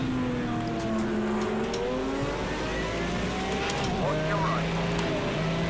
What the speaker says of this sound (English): that car coming up beside me like that and then missing me with all that